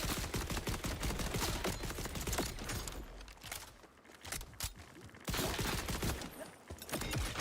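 A gun in single fire mode in Borderlands 4 cracks out rapid, loud repeated shots close by, with a brief quieter lull of scattered pops before the heavy firing resumes.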